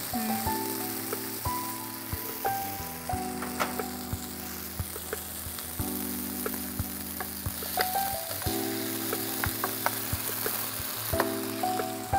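Chicken sizzles and crackles in a hot pan of Chettinad masala, a steady close-up fry with scattered stirring clicks, heard under soft tonal background music.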